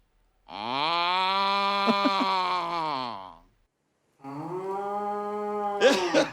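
A buffalo gives two long, drawn-out moos, deep and harmonic, the first about three seconds and the second slightly shorter, close and clear with a brief rustle at the end.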